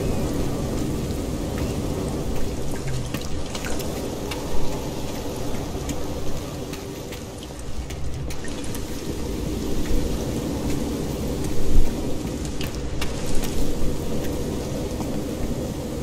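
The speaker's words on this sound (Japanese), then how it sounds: "嵐だらけ。" Dense storm on a hostile alien planet in No Man's Sky, steady loud rain and wind roar with occasional low rumbles of thunder rising through it, constant and close, no talk.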